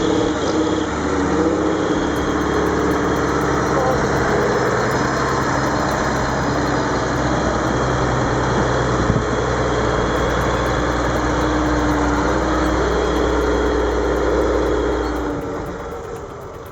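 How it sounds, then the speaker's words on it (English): A heavy John Deere 7720 tractor engine runs steadily at a constant idle-like drone for the whole stretch, low and loud, with no talking. "The John Deere 7720 lends a hand to a fully loaded tractor, pulling it out of a tough spot"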